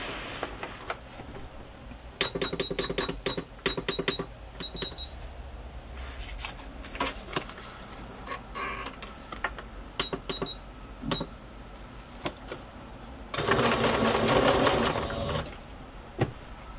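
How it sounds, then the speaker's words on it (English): A sewing machine runs a wavy stitch on a craft page in short bursts of rapid mechanical clatter, close and clear, with pauses and a longer louder run near the end. "I am going to stitch around this before I stitch it to the page with my wavy stitch again."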